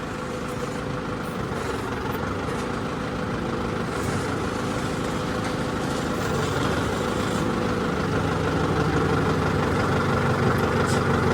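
A tractor engine idles steadily nearby, a continuous low rumbling drone that grows slightly louder toward the end, beside a trailer of maize being unloaded at a grain market.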